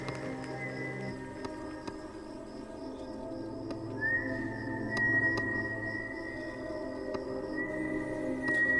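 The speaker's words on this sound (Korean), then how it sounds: "어디선가 들려오는 휘파람 소리에 주변을 둘러본다" A thin, steady whistled tone slides in and holds for several seconds, set against a low, constant background hum.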